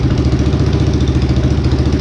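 A trike engine with a new carburetor idling, a loud, steady, low chugging rumble with an even pulsing rhythm close by.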